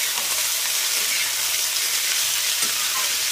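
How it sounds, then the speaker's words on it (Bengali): Cabbage and capsicum frying in a pan for chow mein, a dense, even, loud hiss of sizzling oil that holds steady throughout, with one faint clink near the end and no speech. "এবার এর মধ্যে আমি বাঁধাকপি দিয়ে দেবো আর দিয়ে দেবো ক্যাপসিকাম, দিয়ে এগুলোকে একটু ভেজে নেবো"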